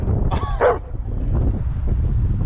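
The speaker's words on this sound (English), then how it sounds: "Bruce, quit barking." A single short dog bark, close and fairly loud, over a steady low rumble of boat engine noise while bass fishing on Smith Mountain Lake in winter.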